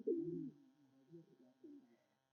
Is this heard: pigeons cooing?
yes